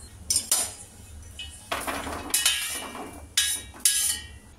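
Roasted walnuts being tipped from a kadai onto a plate, with several sharp metallic clatters and scrapes that arrive in uneven bursts, close and fairly loud, and no speech.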